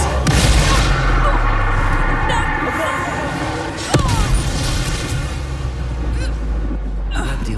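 Bombarda spell exploding in Hogwarts Legacy, a loud booming blast followed by rumbling impacts and crashing debris, with a sharp second burst partway through over continuous battle noise.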